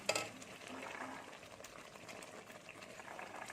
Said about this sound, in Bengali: আমি একটু নেড়ে নিচ্ছি